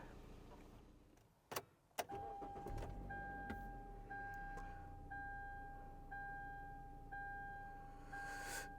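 A cheap used car bought at a public auto auction, its naturally aspirated engine cranking briefly and then settling into a quiet idle, while a steady chime repeats about once a second inside the cabin.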